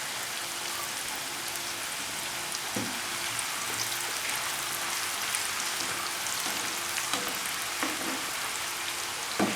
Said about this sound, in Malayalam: നന്നായി തിളച്ചിരിക്കുന്ന എണ്ണയിലേക്ക് ഒരു കൈ ചക്ക എടുത്ത് ഇടുക.